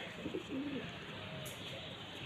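Soft, low cooing from pigeons, a few rounded calls close by over a steady background hiss.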